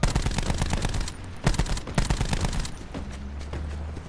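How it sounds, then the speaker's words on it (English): Rapid bursts of automatic gunfire in the shooter video game Black Ops 4, dense rattling volleys with a couple of sharper single shots, fairly close and loud, with no speech over them. "we're getting shot from like all different sides"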